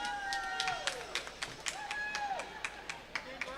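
A volleyball crowd at the Canada Games Centre claps sporadically after a dominant first set at a 15U girls provincial championship, with scattered sharp claps amid gym echo and shoe squeaks.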